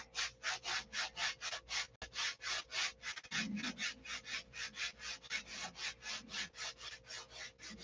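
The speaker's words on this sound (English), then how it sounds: "You have to sand this in your hand." Hand sanding of a piece held in the hand rather than on a workbench, a crisp rhythmic rasp of rapid back-and-forth strokes, about three per second, close up and steady with a brief pause, no voices.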